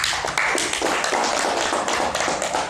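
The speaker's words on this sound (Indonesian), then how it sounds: "Tepuk tangan untuk beliau" An audience gathered for a talk at a village hall meeting claps for a guest teacher, a continuous burst of sharp, close handclaps with no voices over it.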